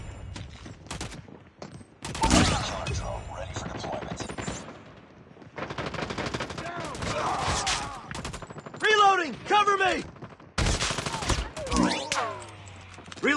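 Gunfire in the Call of Duty Mobile video game, Cranked mode, comes as loud, sustained automatic bursts and booming shots with whizzing effects and game voice callouts mixed in.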